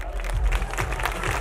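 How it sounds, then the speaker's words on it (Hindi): Audience applause at a school annual function in an Indian academy hall, a dense steady patter of many hands clapping close by with crowd murmur, continuous for the whole stretch. "तालियां बजती रहेगी।"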